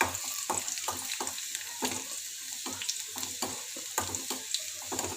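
Garlic and ginger fry in hot oil for restaurant-style crispy corn, a close, continuous sizzle broken by frequent sharp clicks and scrapes of stirring, with no talking.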